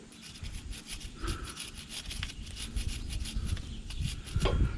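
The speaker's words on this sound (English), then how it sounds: "what I've actually got here is a little wire brush. I'm just going to clean this up a little bit before I install it." A small wire brush scrubs a car starter terminal in quick repeated strokes, making a faint, close scratchy rasp that grows slightly louder toward the end.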